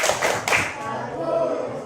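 A classroom of pupils claps together in a rhythmic patterned clap during a lesson, a few loud, close bursts at the start before fading into a teacher's voice.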